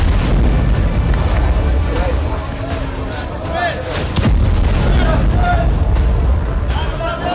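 Tank and artillery bombardment in Gaza rumbles loudly and continuously, with deep booms and heavy thuds under a speaking voice.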